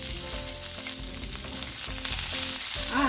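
Diced onion goes into a pan of fried ginger and garlic for chilli paneer, producing a steady crackling fry with rhythmic scrapes of stirring and a rising sizzle at the end, no speech.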